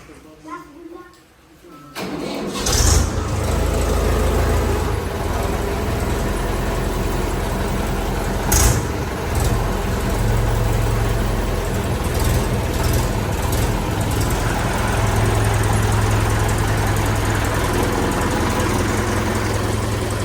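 A farm tractor engine runs loud and steady from start to finish, a continuous rumbling drone with a few brief clanks over it.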